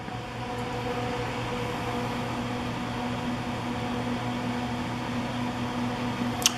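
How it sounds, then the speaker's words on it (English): An EcoPlus 1/10 HP aquarium chiller drones at low volume, a constant motor-like buzz with faint hiss and a brief click near the end. "have the unit cycle or turn on just so you can hear it."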